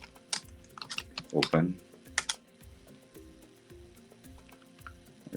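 Quick, uneven keystrokes on a computer keyboard while writing Java code, close by and soft, with occasional muttered speech between bursts of typing.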